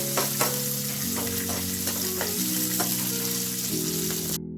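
Onion, ginger, garlic, cinnamon, clove and cardamom sauté in hot oil for a chicken gravy, giving a steady close sizzle broken by repeated stirring scrapes, with no voices.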